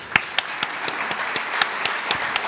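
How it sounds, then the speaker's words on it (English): An audience in the historic Franklin Theater applauds at a mayors' breakfast, moderate steady clapping with a few sharper individual claps standing out. "let's give them a round of applause"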